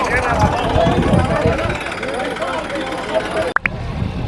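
Massey tractors at a village demonstration, a steady, loud diesel engine rumble running throughout, broken by a sharp knock near the end.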